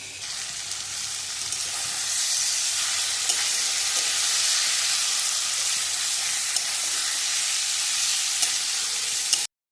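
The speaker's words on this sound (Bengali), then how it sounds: "আলু ফুলকপিটা দিয়ে আর একটু কষে নিই।" Potato and cauliflower fry in a thick spice masala for a fish curry, giving a loud, steady sizzle that holds for the whole stretch with faint stirring ticks and no talking.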